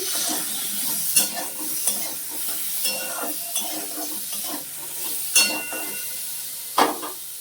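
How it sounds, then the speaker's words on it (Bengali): Chili chicken is stirred as it fries in a pan: a soft crackling sizzle runs throughout, broken by repeated sharp spoon scrapes and clinks against the pan every second or so, with no speech. "নেড়ে দিচ্ছি।"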